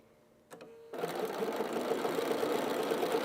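Quilt pieces are fed through a sewing machine, starting with a brief click and then settling into a steady, close, continuous whir of stitching that runs to the end.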